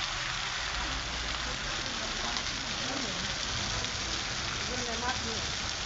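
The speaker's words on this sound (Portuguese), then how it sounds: "Embaixo de muita chuva." Heavy rain pours steadily over a town square in Irecê, Bahia, a constant dense hiss of drops on surfaces, with a faint voice briefly underneath.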